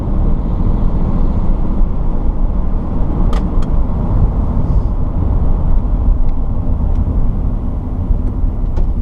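A car rolls by on the road with a steady, loud, low rumble that fills the whole stretch. A couple of faint clicks sit on top of it, with no talking.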